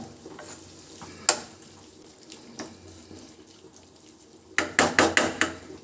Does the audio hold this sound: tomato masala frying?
yes